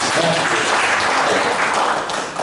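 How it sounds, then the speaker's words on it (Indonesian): A church fellowship audience applauds Chris as he sits down, a steady, dense clapping that holds throughout and eases slightly at the end. "Tepuk tangan dulu untuk Chris."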